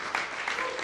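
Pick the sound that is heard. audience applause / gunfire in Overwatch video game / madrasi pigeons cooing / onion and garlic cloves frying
audience applause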